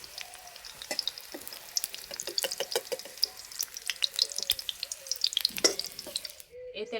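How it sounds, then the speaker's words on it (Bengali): Sliced onions fry lightly in hot oil, a steady crackling sizzle with sharp pops and spits, up close, followed by a brief clatter and a faint voice near the end. "পেঁয়াজগুলোকে বেশি ভাজবো না, একটু হালকা করে ভেজে নেব"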